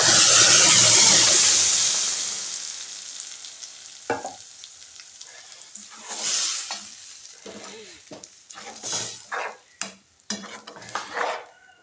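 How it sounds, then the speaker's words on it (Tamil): Ground spice paste for a horse gram dal curry hits a hot pan with a loud, hissing sizzle that fades over a few seconds, followed by scattered scrapes and knocks of stirring; no voices. "இப்போ ஆட்டிகிட்டு வந்த பொருள் எடுத்து ஊற்றிக்கலாங்க"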